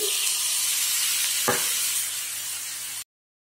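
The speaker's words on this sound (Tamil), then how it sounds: "நல்லா மசிற வரைக்கும் நல்லா வதக்கிக்கோங்க" Tomatoes and masala sautéing in a pan for kadai paneer, a continuous loud hissing sizzle with one brief stir scrape midway, then cutting off abruptly.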